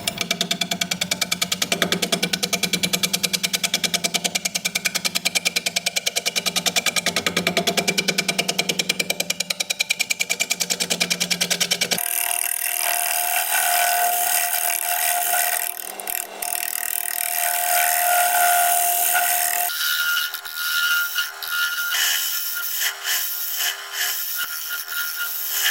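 A turning tool cuts sycamore spinning on a wood lathe, giving a steady rough scraping whir that shifts character twice as the cut changes, with no talking.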